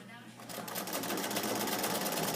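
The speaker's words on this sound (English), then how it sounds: "I want to be right along there, and just stitch along there very" A sewing machine stitches along a seam, flattening a fabric edge for understitching. Its rapid, even mechanical whirring runs close and steady after a quiet start.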